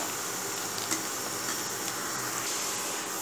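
Chopped onions sizzle and crackle in hot oil for a dhaba-style dal tadka, a dense, steady frying hiss heard up close with no voices.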